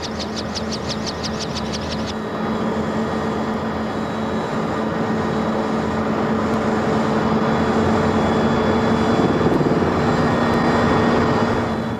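A South African Air Force military helicopter, loaded heavily with munitions, drones with a loud, constant engine and rotor roar that builds slightly over twelve seconds. A rapid fluttering tick is heard at the very start, and no one speaks.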